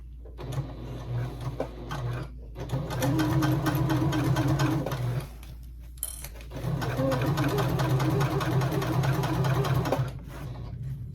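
A sewing machine stitches a tote bag in two long, loud, buzzing runs, separated by short pauses, and the motor whirs evenly at close range.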